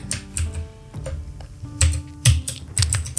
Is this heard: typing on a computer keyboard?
yes